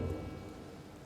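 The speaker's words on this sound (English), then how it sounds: "amid a downpour with no interest whatsoever in relenting" Steady downpour of rain in the Pyre video game, a dense even hiss with low rumbling beneath that may be distant thunder, constant and fairly quiet throughout with no talking.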